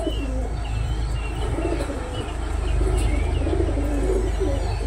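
Pigeons coo in repeated soft throaty calls over a dense, steady outdoor background hum, the cooing recurring every second or so, with no one speaking.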